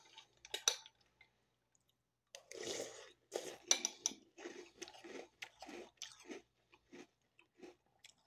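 Someone chews crunchy cocoa-flavored Magic Spoon cereal close to the mic, a steady run of crisp crunching bites after a few brief opening crunches and a short pause.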